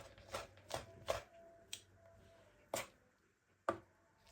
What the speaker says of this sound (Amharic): እንደዚህ ይዛችሁ ድቅቅ አድርጋችሁ መክተፍ ነው።